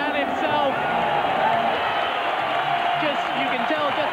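Boxing arena crowd roaring as Nigel Benn makes his ring entrance, a dense, continuous wash of cheering and voices holding steady at full volume throughout.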